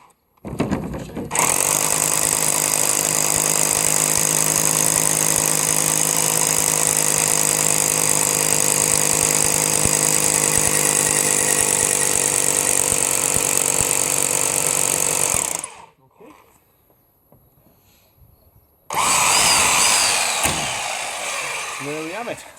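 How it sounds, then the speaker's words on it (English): A power drill bores a hole into a concrete block wall for fixing a timber fence post, with a loud, steady grinding whine for about fourteen seconds, a short pause, and then a final burst. "That's the hole drilled in the block wall ready."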